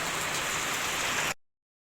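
Heavy rain pours down in a dense, steady hiss that holds loud and even, then cuts off abruptly.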